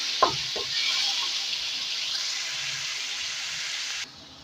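Minced meat keema fries with onions in a pan, a close, steady broadband sizzle after a couple of brief knocks at the start, holding evenly for about four seconds before cutting off, with no talking.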